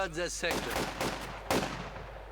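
Gunfire between penal troops and assault grenadiers in the strategy game Company of Heroes 2, a few sharp cracks spaced about half a second apart over a steady battle din, with a voice heard briefly at the start.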